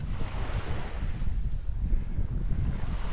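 Gusty east wind buffeting the microphone with a low roar on Vanderbilt Beach in Naples, Florida, mixed with the wash of surf in the background; no voices.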